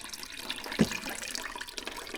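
Water drains out of the flood-damaged engine of an R50 Mini Cooper during a stripdown. A faint, close trickle runs on, broken by one brief splash.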